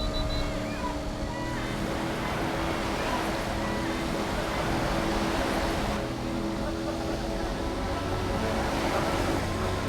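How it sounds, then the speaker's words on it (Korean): Steady wash of ocean waves on a mudflat shore during a yoga session at a mud festival, a constant broadband roar with no pauses and no talking. "들려오는 파도 소리를 느껴봅니다."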